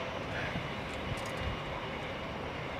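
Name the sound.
Airbus aircraft arriving at Heathrow in windy weather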